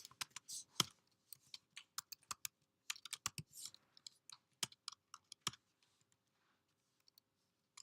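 Typing on a computer keyboard while programming, with quick irregular bursts of clicky keystrokes close by, then slower scattered taps and pauses, fairly quiet in an otherwise silent room.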